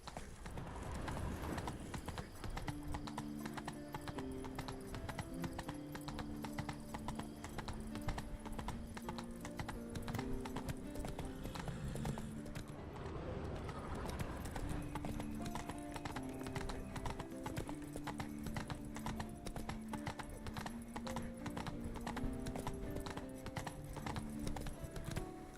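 Roach, Geralt's horse in The Witcher 3: Wild Hunt's Blood and Wine expansion, trots along a path with steady rhythmic clip-clop hoofbeats over a quiet game backdrop, with a brief whinny partway through.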